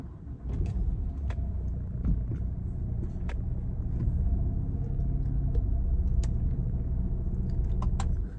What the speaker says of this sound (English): I think I'm parking my car.